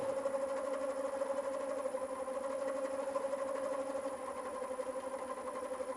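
A Vicmarc oval turning device running on a wood lathe at about 300 RPM gives off a steady mechanical hum with a strong tonal drone and a faint rhythmic pulsing. It holds even and fairly close throughout, with no speech.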